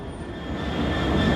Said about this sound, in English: You wouldn't believe that 1346 train is still sat behind me now waiting to be let out.